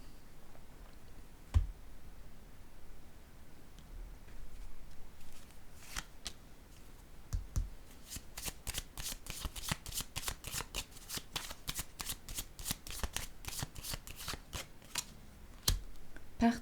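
Cards are laid down and then shuffled at close range, a few soft taps giving way to a long run of rapid, crisp riffling clicks, with a little quiet speech near the start.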